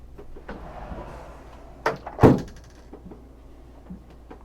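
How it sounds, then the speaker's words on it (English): Pocket doors in a motor yacht cabin sliding shut, a soft rolling slide followed by two distinct close thuds, the second louder, then a quiet room with faint handling sounds. "And some pocket doors to close off this room."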